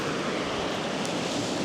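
A river rushes steadily within arm's reach along a wooded riverside walk in Ireland, a loud, dense, continuous wash of flowing water with no voices.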